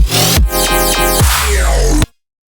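An electronic music drop with sound-designed chime-like chords over heavy bass and sweeping synth layers, loud and dense before cutting off abruptly into silence.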